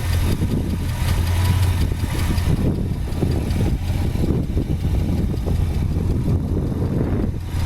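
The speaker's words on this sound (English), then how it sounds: "Car runs out nice. It's got newer dual exhaust on it." The engine of a 1966 Ford Fairlane with newer dual exhaust runs at a steady idle, a close, loud, low rumbling burble throughout.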